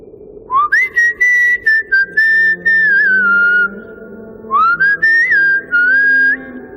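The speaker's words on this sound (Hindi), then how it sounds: "ढूंढते हुए ऐसे ही एक धुन सीटी की बजाई" Someone whistles a melody up close, in two clear phrases of bright, sustained notes separated by a short pause.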